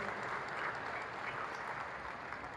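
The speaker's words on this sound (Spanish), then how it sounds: "vamos a darle un aplauso a Santa Elena" An audience applauding for Santa Elena, a continuous, even patter of many clapping hands with a slightly distant, roomy sound throughout.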